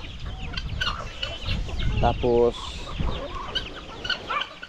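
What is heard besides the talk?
chickens clucking on a farm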